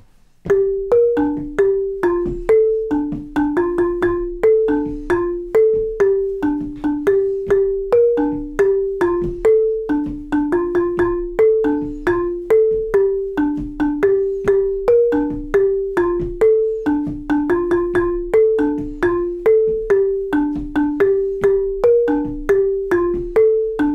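A marimba de chonta plays a steady, repeating bordón pattern in the aguabajo style, bright wooden tones, continuous and loud with no voices.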